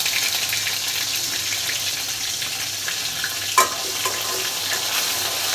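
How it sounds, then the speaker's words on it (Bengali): Onion paste and a little garlic paste fry in hot oil with a continuous dense sizzle, close and even, broken once by a short sharp clink partway through. "এরপর এই তেলে দেব পেঁয়াজ বাটা আর সামান্য রসুন বাটা।"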